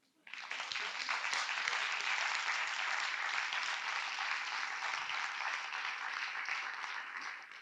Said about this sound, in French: Est-ce que vous pouvez l'applaudir?